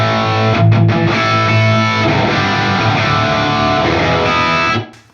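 Electric guitar played through a Bogner Ecstasy 101B amp with the bright switch at maximum, a loud, sustained, heavily distorted chord-driven passage that rings steadily before cutting off near the end, with no talking.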